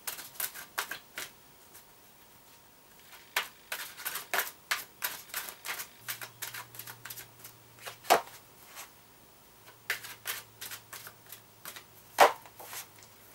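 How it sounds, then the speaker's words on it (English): Romance oracle cards are shuffled by hand in a quiet room, giving a run of soft, quick riffling taps and slaps in bursts with short pauses between them. "I'm going to shuffle my romance oracle cards"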